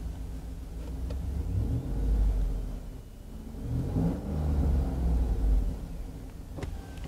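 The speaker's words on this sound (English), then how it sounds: "Very nice sounding engine." A 2012 Cadillac Escalade engine revs up twice from idle in loud, swelling low-pitched surges that fall back between blips, heard nearby with no talking.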